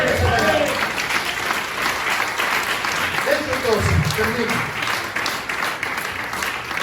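A church congregation applauding during a Christian sermon: sustained dense clapping from a sizeable crowd, steady and moderately loud, with voices and a short spoken word mixed in.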